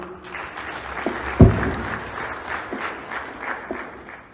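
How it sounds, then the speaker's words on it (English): Applause from an audience at a university event in Zambia, a steady wash of clapping across the whole span with a louder thump near the start, no voices. "Round of applause, please"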